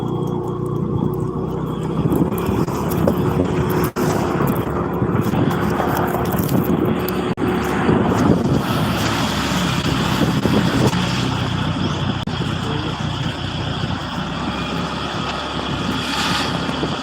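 A motorcycle rides along a road with a steady engine drone. Heavy wind buffeting runs over it throughout, and a brief knock sounds near the start.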